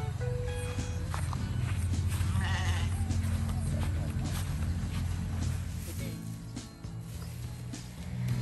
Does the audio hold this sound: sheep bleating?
yes